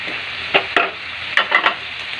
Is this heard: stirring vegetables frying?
yes